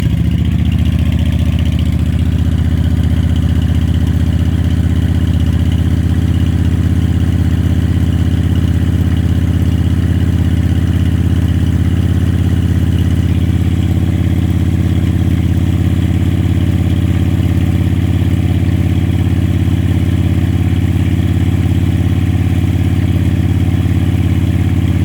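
A Honda Shadow 750 motorcycle idles after a cold start in freezing 25°F weather. The engine gives a loud, close, steady low rumble for the whole 25 seconds, alone with no voices.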